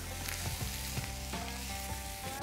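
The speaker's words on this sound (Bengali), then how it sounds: "চিনি দিচ্ছি, এটা একটু ক্যারামেলাইজ হবে।" Sugar with turmeric, red chilli and cumin powders and ginger paste caramelizing in a pan for prawn biryani, a close, loud sizzle broken by several rhythmic stirring scrapes.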